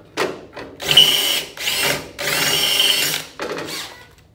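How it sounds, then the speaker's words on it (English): A power drill with a quarter-inch bit whirs in two long bursts and a shorter one, revving up and cutting through a lid, close and loud with brief pauses between runs. "we're going to drill through this lid here."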